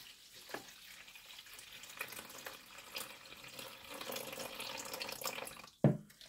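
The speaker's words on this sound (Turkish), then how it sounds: "havuzumuzu suyla dolduralım ve parti başlasın" Water pours into a toy pool in a children's toy play scene, a soft hiss that grows steadily louder before a few sharp splashes and knocks at the end.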